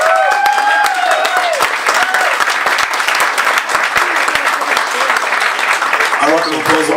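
Audience at an African festival launch applauding, a loud, sustained crowd of clapping with voices talking and calling over it.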